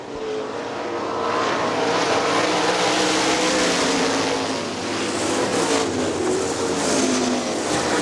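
Outlaw sprint cars racing at Hartford Speedway Park in 2003, a loud, continuous roar of several engines at full throttle sweeping past in a pack, rising and falling as they pass.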